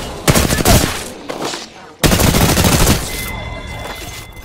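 Rapid automatic gunfire from the Apex Legends video game crackles in two loud, close bursts with a brief gap between them, followed by fading game effects.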